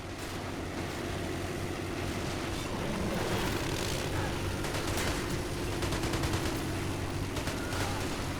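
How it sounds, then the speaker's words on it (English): Battlefield gunfire in the video game RobZ Realism Mod during a Russian infantry mass charge, steady distant rifle and machine-gun shots over a low engine rumble, fairly faint throughout. "And we're taking sniper fire."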